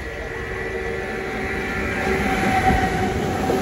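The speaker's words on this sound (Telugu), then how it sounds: "మెమో ట్రైన్ మజాక చూడండి" MEMU passenger train on the Anantapur to KSR Bengaluru route, its ICF rake rolling along with a steady rumbling rail noise and faint wheel tones, heard from on board at moderate, slightly rising loudness.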